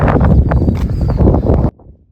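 Strong gusts of wind buffet the microphone on a hilltop in the Yorkshire Dales, a loud continuous roar that cuts off abruptly near the end, leaving faint quiet behind.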